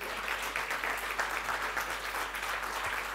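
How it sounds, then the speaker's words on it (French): Audience at the closing of an international organic agriculture seminar applauding, steady, even clapping from a room full of people, moderate and somewhat distant, lasting a few seconds. "Et j'ai oublié notre animatrice aussi à applaudir."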